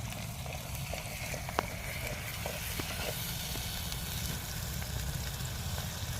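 Coconut, ginger and garlic paste being stirred into chicken in a clay pot beside a river produces a soft, continuous sizzle with scattered faint scraping clicks, and no one speaks.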